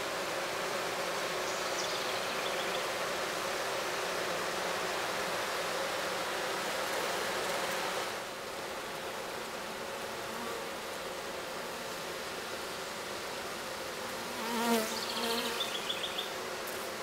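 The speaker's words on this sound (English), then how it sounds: "The bees are on air conditioning duty, or some of them are on air conditioning duty." Honeybees fanning at the entrance of a backyard hive in late July, a steady, dense buzzing drone that holds throughout, close and continuous, with a brief louder pass of a single bee near the end.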